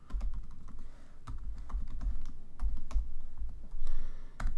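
Keys clack on a computer keyboard, likely an M1 MacBook's, as a password is typed: a quick, irregular run of close, crisp taps with short pauses between bursts.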